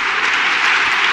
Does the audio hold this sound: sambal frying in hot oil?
no